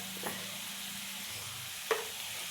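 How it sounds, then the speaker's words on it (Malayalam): Sliced onions frying with salt in a pan are stirred: a steady close sizzle runs throughout, broken by two quick scraping taps of the spoon, with no voices. "എന്നിട്ട് നന്നായിട്ട് ഇളക്കി കൊടുക്കാം."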